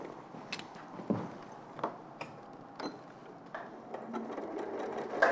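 A sewing machine stitches around a piece of fabric in a studio, with short bursts of mechanical running broken by brief pauses, fairly faint and close.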